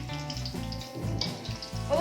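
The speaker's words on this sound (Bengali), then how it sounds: "ও বৌদি, আমি পমফ্রেট মাছগুলোকে ভাজছি।" Pomfret fish sizzling as they fry in a home kitchen pan, a continuous hiss over two seconds with background music and voices mixed in.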